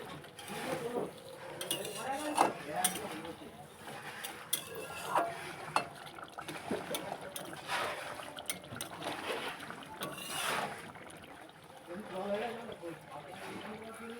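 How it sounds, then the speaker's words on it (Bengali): Mustard oil being stirred in a pan while cooking mustard hilsa, with soft scraping and light clinks of a utensil against the pan and a faint liquid sizzle, steady and close throughout. "দিয়ে একটু হালকা করে নেড়ে দেবো।"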